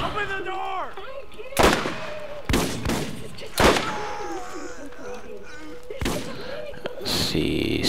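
Gunfire in the Borderlands video game: several sharp sniper-rifle and gun shots ring out at irregular intervals over a steady background of game music and ambience.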